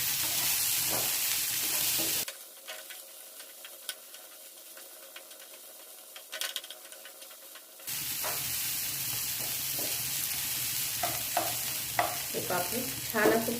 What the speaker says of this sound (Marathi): यामध्ये आपण हे बटाटे घालणार आणि चांगलं करतो